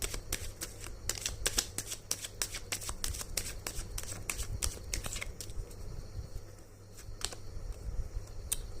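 Tarot cards being shuffled by hand during a reading, a steady run of crisp riffling flutters and slaps repeating close up for several seconds, with no talking.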